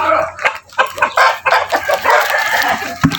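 Rhode Island chickens cluck loudly and close by in a busy flock, with overlapping squawks and crowing-like calls filling the short stretch.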